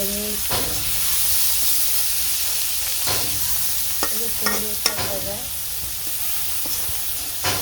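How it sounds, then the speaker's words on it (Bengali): Eggs frying with onions in a pan for a morning bhuna, a loud continuous sizzle and hiss close by with scattered clinks and scrapes of a spatula stirring. "পেঁয়াজ দিয়ে ডিম দিয়ে সকালবেলায় ভুনা রান্না বান্না চলছে"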